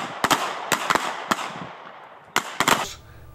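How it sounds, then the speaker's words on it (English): Sharp gunshots from handguns at a concealed carry shooting class in Quitman, Mississippi, fired in irregular bursts: two quick shots, a few spaced single reports, then a tight cluster near the end, each loud with a short ringing tail. "they're getting to shoot about 100 rounds"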